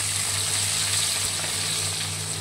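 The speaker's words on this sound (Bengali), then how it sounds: "মাছগুলোর এক পিঠ ভাজা হয়ে গেলে আমরা আরেক পিঠ উল্টে দেব" Steady, even sizzle of spice-marinated silver carp frying in hot oil after being flipped to cook the second side, close and continuous with no talking.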